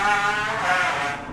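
A 2-stroke engine on a Thai drag racing motorcycle revs hard nearby, a buzzing, rising whine that holds loud and then starts to fade.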